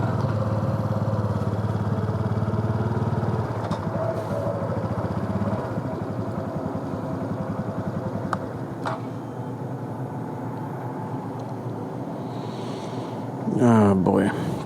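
Honda Super Cub motorcycle puttering steadily in second gear, a low continuous engine drone heard from the rider's position, with someone talking over it.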